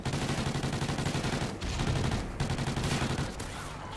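Rapid, continuous gunfire in the first-person shooter Call of Duty: Ghosts, loud dense bursts with a couple of very brief pauses, filling the whole stretch.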